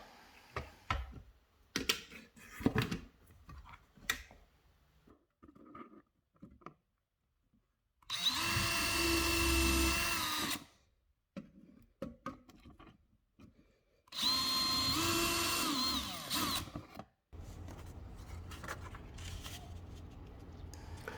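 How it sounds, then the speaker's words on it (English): Two loud bursts of a power drill boring guide holes through a wall, each several seconds long, separated by quieter tapping and handling noises. "there are these guide holes that you drill through"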